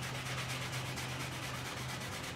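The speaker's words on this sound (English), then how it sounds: "just sanding away. So right now it's about sanding away all of the tarnish and black" Hand sanding of tarnished, blackened clear-coated motorcycle engine parts on a Suzuki GS550 cafe racer, a steady continuous rubbing rasp with regular back-and-forth strokes, close and alone with no talking.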